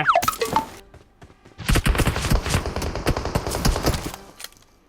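Rapid automatic gunfire in PUBG Mobile, a dense burst of loud shots lasting several seconds after a brief quieter stretch with a few scattered sounds.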